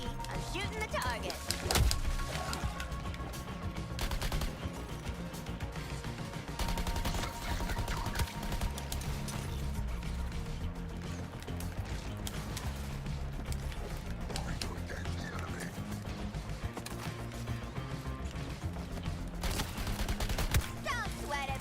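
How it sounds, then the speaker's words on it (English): Continuous gunfire in Suicide Squad Kill the Justice League runs under a busy game mix of music, effects and voices, steady shots persisting throughout with people talking over it. "Affirmative, Starkey. I'm shooting the target."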